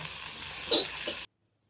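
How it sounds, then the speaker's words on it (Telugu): Spice paste fries in oil in a kadai over a wood-fired stove, a steady close sizzle with a brief louder burst midway, then cutting off abruptly into silence. "ఇది వేసి చక్కగా ఆయిల్లో ఫ్రై చేసుకోవాలి."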